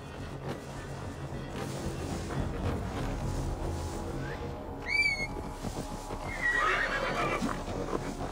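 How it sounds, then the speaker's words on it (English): A horse in the video game Assassin's Creed Valhalla gives a single short whinny midway through, set against a steady outdoor ambience of wind and faint movement. "Now to deliver Magni his horse."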